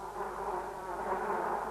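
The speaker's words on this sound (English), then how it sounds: "all the flies in the kingdom were buzzing about inside the jar" Several flies buzz inside a jam jar, a steady, close, continuous drone with slight wavering and no pauses.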